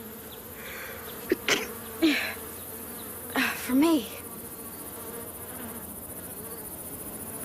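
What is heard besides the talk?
bees buzzing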